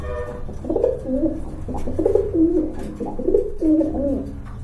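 Racing pigeons coo close by in a steady run of throaty, rolling calls, several phrases following one another over a soft background murmur.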